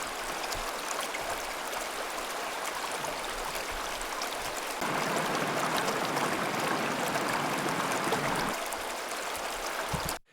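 A river flows in an outdoor field recording, its steady broadband rush of water running continuously. The flow grows slightly fuller through the middle stretch, then cuts off abruptly at the end.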